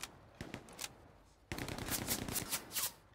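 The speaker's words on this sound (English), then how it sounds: "That's some heavy fire." Heavy gunfire in the WWII shooter game Hell Let Loose: scattered shots at first, then a dense, sustained burst of rapid automatic fire with sharp cracks rolling over one another.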